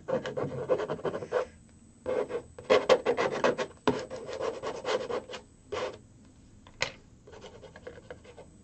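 Palette knife scraping and pushing thick paint, mixed with sand, across a textured seascape canvas in short rasping strokes, close and fairly quiet, with brief pauses between passes.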